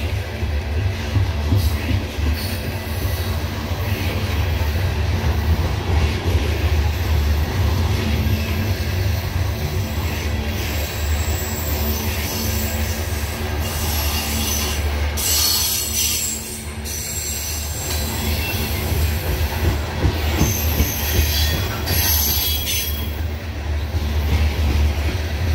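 A CSX freight train hauling a load of coal rolls past at night, a loud, steady rumble of rail cars with wheel squeal and scattered clanks throughout.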